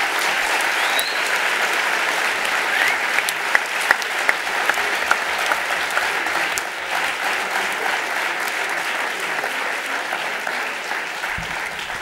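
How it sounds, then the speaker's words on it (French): Audience applause for the jury at the 2012 Eloquentia speaking contest final, a dense, steady wash of clapping from a large crowd lasting throughout, with a few sharper individual claps standing out. "Voilà, je crois qu'on peut encore les applaudir."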